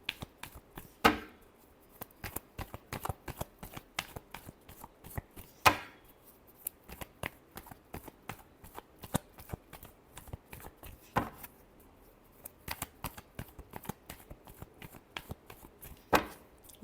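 Tarot cards are shuffled quietly and close by, a soft crisp riffling with a few sharper slaps and snaps recurring every few seconds in a quiet room.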